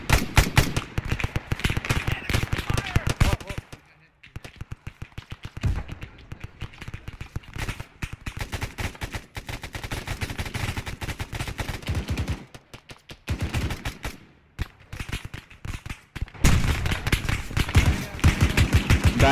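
Dense bursts of rifle and machine-gun fire crackle through an Arma 3 combat operation, sustained volleys broken by brief lulls, loud and close, with occasional radio-style voices underneath.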